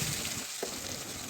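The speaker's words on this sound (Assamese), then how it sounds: "পেষ্টখিনি আমি এতিয়া তেলত দি দিছোঁ।" Ground spice paste fries in hot oil in a kadai for a mustard-seed and capsicum fish curry, giving a steady, close, even sizzling hiss with no talk.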